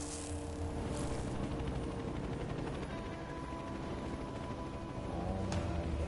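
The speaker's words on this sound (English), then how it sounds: "They got helicopters and everything, bro." Helicopters flying overhead give a continuous, loud rotor and engine drone that stays steady for the whole stretch, with no voices.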